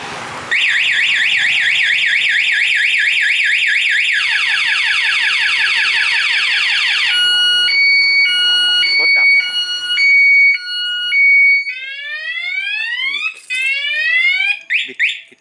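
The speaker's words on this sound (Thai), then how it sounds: "ผมจะกดปุ่มล็อกนะครับรถจะดังแล้วจะร้องภายใน 10วิรถก็จะดับนะครับ" A loud electronic anti-theft alarm on a Honda Wave 125i motorcycle cycles through rising whoops, rapid warbles and stepped beeping tones, then cuts to shorter chirps near the end.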